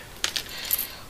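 A homemade ballistic pen, one of the Mark 1 and 2 ballistic pencils, drops onto a hard surface: two quick light clicks and a short, bright clatter, close and fairly quiet, with no talking.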